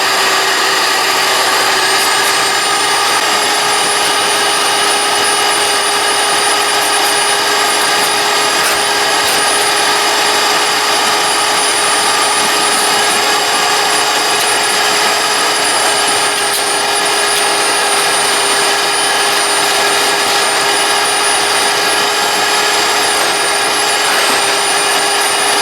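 Carpet-cleaning vacuum machine running steadily for car interior cleanup, a loud continuous motor whine with a high-pitched tonal hum and no pauses, heard alone.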